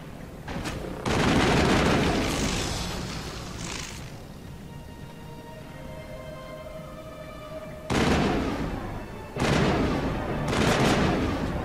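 Bursts of gunfire in a Mass Effect firefight: a sustained volley early on, a lull with a low tonal hum, then two more heavy clusters of shots near the end.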